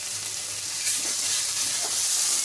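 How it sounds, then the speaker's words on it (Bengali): Garlic and spices sizzle and hiss steadily in a hot pan over a medium gas flame as they are stir-fried, a dense close frying sound that swells slightly partway through. "একটু ভালো করে কষিয়ে নেব।"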